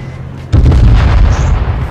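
A sudden loud blast of H1Z1 King of the Kill gunfire hits close and heavy after a quiet start, then trails off into a rumbling, crackling tail.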